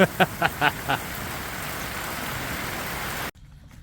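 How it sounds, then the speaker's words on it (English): Steady outdoor rain hisses evenly on surfaces, loud and continuous, after a few short sharp knocks at the start, then cuts off abruptly near the end. "looks like we're going to get rained out"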